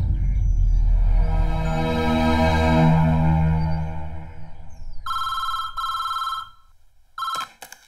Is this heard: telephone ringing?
yes